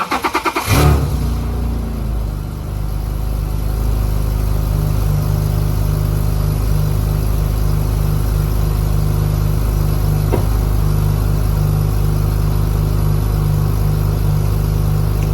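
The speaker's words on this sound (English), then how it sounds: "when I tell you I start this thing up and it's pretty loud, it's pretty loud" Acura TL with a swapped 3.7-litre engine, six-speed, Comptech exhaust and J-pipe, cold started: a quick cranking burst flares into a loud rev, then settles into a steady, deep, close idle held throughout with no talking.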